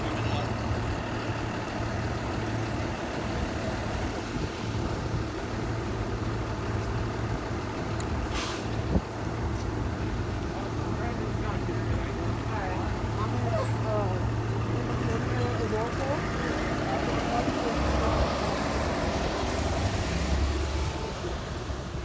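Buses pulling in and parking: a continuous low diesel engine rumble and idling throughout, with a brief hiss of an air brake partway through and background noise from people nearby.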